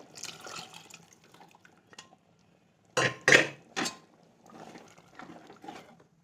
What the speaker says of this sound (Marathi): यामध्ये मी गरम पाणी टाकणार आहे